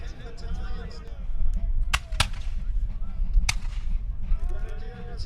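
Musket and cannon fire at a Bunker Hill battle reenactment in Gloucester, MA: a few sharp distant cracks stand out over steady crowd and outdoor rumble, with British battalions volleying.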